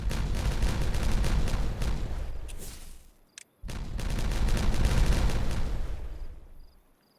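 An explosion in the building game Timberborn, blasting terrain: a loud, sustained roaring rumble of crackling blasts that dies away, cuts out briefly, then swells again and fades.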